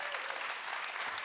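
Brief burst of audience applause at a tech talk, dense even clapping filling the whole short moment.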